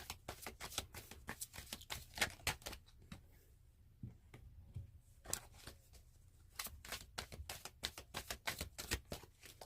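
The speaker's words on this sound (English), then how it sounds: "we'll give 2 more overhand shuffles, and then we'll just pull" Tarot cards are shuffled overhand close to the mic, rapid bursts of crisp papery slaps in quick runs, a short quieter pause midway, then more runs.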